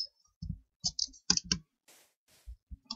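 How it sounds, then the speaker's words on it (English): Keys are tapped on a computer keyboard while Minecraft runs, a handful of close, crisp clicks in uneven bursts separated by near silence, along with a couple of soft hissy swishes. "So I type now."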